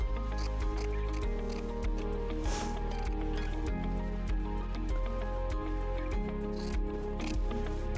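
Scissors trim excess embroidery backing from a piece stitched on a Brother PE 900 machine, giving a run of crisp, closely spaced snips and small crunches over a steady low hum, close and moderately loud.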